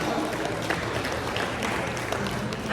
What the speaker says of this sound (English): I think we need to clap for ourselves.